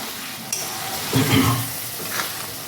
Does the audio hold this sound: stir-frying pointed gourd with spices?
yes